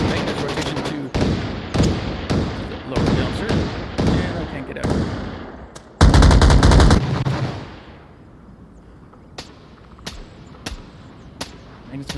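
Gunfire in a competitive Onward VR video game match, rapid loud shots in bursts with a heavy close volley, then sparse distant single shots, under fast excited commentary.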